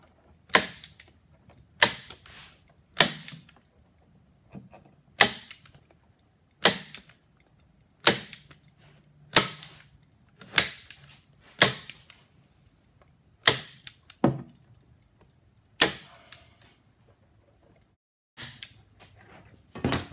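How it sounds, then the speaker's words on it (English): A staple gun fires into wire mesh on a shower curb being prepared for floating with mud, making about a dozen sharp, loud snaps. Each snap is followed by a short clatter, spaced one to two seconds apart in a quiet room. "I'm just going to take my staple gun and hit a few on the outside."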